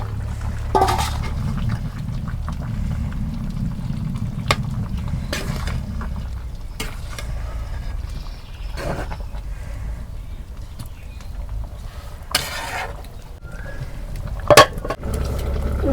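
Beef and potatoes sauté together in a pot for a village-style beef curry, giving a low, moderate sizzle with repeated clinks and scrapes of a spoon against the metal pot and no talking.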